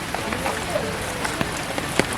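Steady rain falls on a hill road on Garasini hill near Belpahari in Jhargram, a dense, even hiss with scattered sharper drop taps, continuous and close throughout with no voices.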